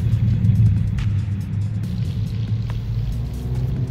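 A 2019 Toyota Corolla Hatchback XSE with a 2.0L engine and a muffler-delete exhaust gives a deep, steady rumble while accelerating, a loud low drone heard close without any talking.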